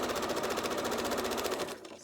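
A sewing machine stitches quilt pieces in a fast, steady, even run of needle strokes, loud and close, stopping abruptly near the end.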